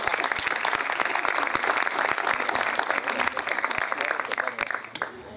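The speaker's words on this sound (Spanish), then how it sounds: "Un aplauso para él." Audience applause after a speaker's introduction at a conference on biodiversity and conservation, a dense, steady wash of many hands clapping that holds for several seconds before thinning out at the end.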